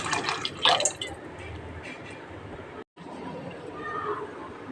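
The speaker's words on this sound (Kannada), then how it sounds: "ಇನ್ನೊಂದು ಸ್ವಲ್ಪ ನೀರು ಸೇರಿಸ್ತಾ ಇದ್ದೀನಿ." Water is added to a pot of spicy khara pongal as it cooks, giving a brief splashing pour early on, then quieter trickling and bubbling as a voice talks over it.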